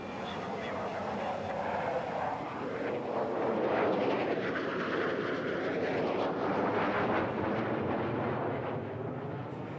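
Concorde supersonic airliner in flight during a training circuit, a loud, steady broadband engine roar sustained throughout with slowly sweeping tonal swirls, heard close and continuous with no pauses.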